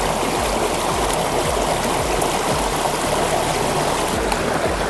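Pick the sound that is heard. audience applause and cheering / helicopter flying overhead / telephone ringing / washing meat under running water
washing meat under running water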